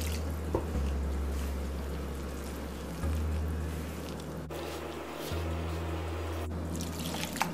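Water trickling and dripping into dough seasoned with curry peppers, onion and salt for salt bake, a faint wet pouring sound under a steady low hum, with brief pauses and shifts.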